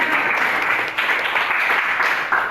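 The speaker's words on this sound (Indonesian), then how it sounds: "Tepuk tangan." A classroom audience claps together in steady, dense applause that holds at an even level for the whole stretch, with no voices standing out above it.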